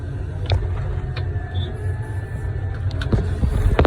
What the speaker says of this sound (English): there's 1 truck